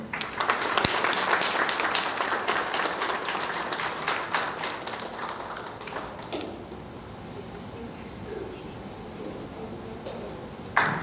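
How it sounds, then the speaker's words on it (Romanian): Sustained audience applause at an award ceremony in Dărmănești honouring couples married 50 years, dense clapping for about six seconds that then thins to scattered claps and murmur, with a brief renewed burst at the end. "Eu zic că merită aplaudată"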